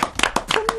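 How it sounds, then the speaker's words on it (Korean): A few sharp hand claps in a radio studio during a Korean talk show, brief and scattered over a quiet tonal background. "박수 한번 치죠"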